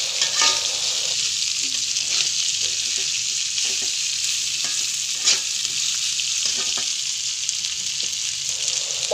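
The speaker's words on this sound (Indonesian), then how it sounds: "Kita campurkan kembali dengan kacang dan bumbu-bumbu lainnya sampai tercampur rata." Fried tempeh and long beans are stirred in a hot pan, with a steady loud sizzle of frying oil and intermittent scraping and clinking of a spatula, close and without talk.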